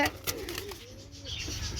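A pair of pigeons at a bird sale give a few low, drawn-out coos, faint and close, with people talking around them.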